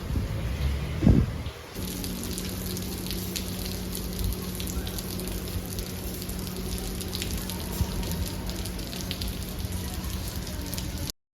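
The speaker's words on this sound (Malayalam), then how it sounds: "മഴ ഇങ്ങനെ ശക്തമായി പെയ്യുന്നതുകൊണ്ട് നമ്മൾ അകത്ത് ഇൻഡോർ തന്നെ കുറച്ച് ഫോട്ടോസൊക്കെ എടുക്കാമെന്ന് വിചാരിച്ചു." Heavy rain pours steadily outdoors at a lakeside resort, a dense continuous hiss of drops with a low hum underneath and a brief louder knock near the start.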